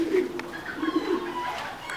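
Thai Titan pigeons coo at a breeding farm during laying season, a close, low, repeated rolling coo with a few overlapping calls and faint soft background noise.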